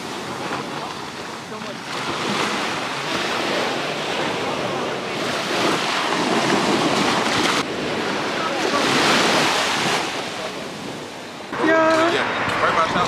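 Ocean waves wash onto a Barbados beach in a loud, continuous roar, heavy wind buffeting the microphone and voices talking over the surf.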